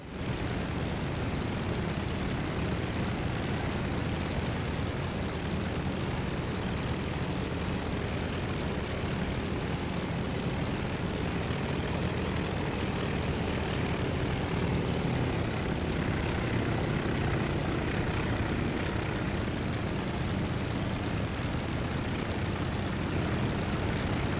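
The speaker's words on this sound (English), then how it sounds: "there's a plane coming in right behind you" A propeller plane comes in to land on an aircraft carrier in a naval combat video game, a steady, loud engine and propeller drone holding throughout with no talking.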